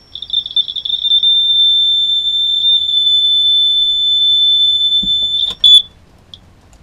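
A combined smoke and carbon monoxide detector in a fulltime-living RV sounds a loud, continuous high-pitched alarm tone during its reset test, holding steady for several seconds before cutting off after a brief clatter.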